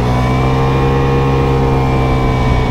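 A Vespa S125 scooter engine revs steadily and loudly at close range for a Sunday morning ride start in Manila, its mid-pitched drone holding throughout with no voices over it.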